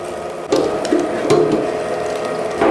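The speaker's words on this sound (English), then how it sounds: "So if we grind it a second time, it's still gonna be meaty, but it's going to have a smoother texture." A butcher's meat grinder runs as beef goes through it a second time, giving a steady mechanical whir and churn with clanking, ratchet-like knocks and a few louder bursts, close and alone.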